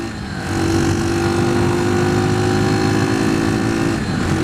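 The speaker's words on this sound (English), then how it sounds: "It does make a nice purring sound of the stock exhaust." A Lexmoto 125 Assault 125cc motorcycle engine idles and then holds a steady, smooth purr at close range, a mellow stock-exhaust tone with no talking.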